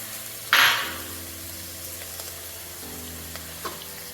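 Garlic dropped into a pan with browned onions, a brief loud sizzle burst that settles into a soft, steady frying hiss with a few light clinks, no talking.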